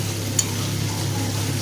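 Paneer chilli sautéing with spices in a home kitchen pan, a steady low sizzle with soft stirring scrapes and one brief sharp clink, close and continuous with no talk.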